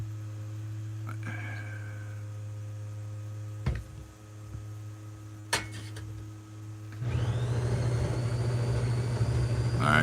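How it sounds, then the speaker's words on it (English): Coffee system freshly grinding beans, loud and jet-engine-like; a steady hum and a few thumps lead into a louder, broadband roar from about seven seconds to the end. "that jet engine, well, that's just the coffee system here. It's fresh grinding some beans."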